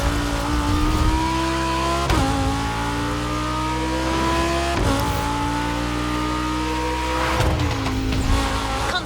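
A concept car engine in The Crew Motofest racing game revs hard and climbs through the gears, roaring loudly and continuously with a clear pitch drop at each of several upshifts.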